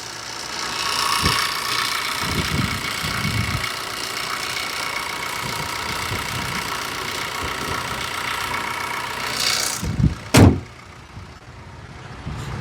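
A 2016 Maruti Ritz car engine idles steadily with a low rumble and mid-range hum, a few louder knocks and a brief sharp clunk near the end.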